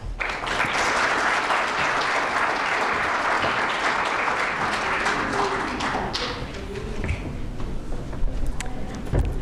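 An audience at a lecture on Great Lakes microplastics at the Cranbrook Institute applauds to welcome the speaker, a steady crowd of clapping hands sustained loud and near for several seconds before tapering slightly, with no voices.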